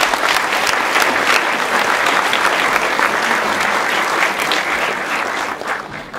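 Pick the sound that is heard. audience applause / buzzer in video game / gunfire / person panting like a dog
audience applause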